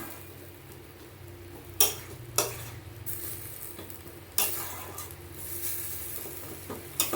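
Chicken masala being stirred and fried in a new kadai, a steady low sizzle with a few sharp scraping clicks of the spatula against the pan, close and alone.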